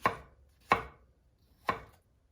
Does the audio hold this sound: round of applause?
no